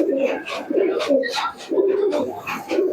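Young, not yet mature pigeons cooing close by in a pigeon shop, in repeated soft, throaty bursts, one call overlapping the next with barely a pause.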